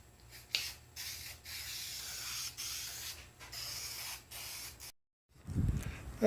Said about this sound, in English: I got the back side of it all taped off so I can spray the edges here.